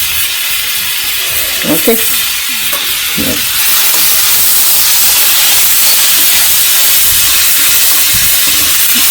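Green chilies crackle and hiss as they hit hot coconut oil, settling into a loud, steady sizzle with a brief spoken word early on.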